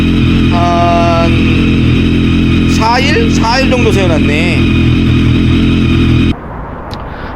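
BMW K1300R motorcycle with a 1300 cc engine, idling steadily then rising in a few revving pulses, close and loud beneath continuous speech before cutting off.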